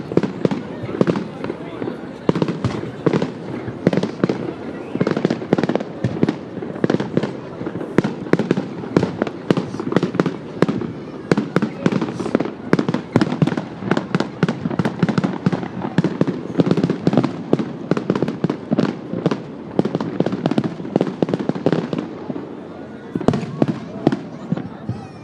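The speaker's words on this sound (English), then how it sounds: "lovely when you can see the reflection of the fireworks on the River Foyle as well, Claire." Fireworks burst over the River Foyle during the Derry Halloween celebrations, with a dense, continuous barrage of loud booms and crackling reports heard from a distance and a faint crowd murmuring underneath.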